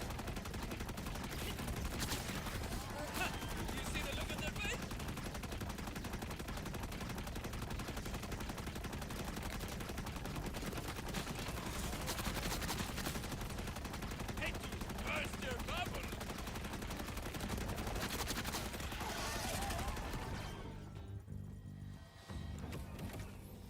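Continuous rapid gunfire from a weapon in a video game used against groups of enemies, dense and steady throughout before easing off near the end, with a voice talking faintly over it.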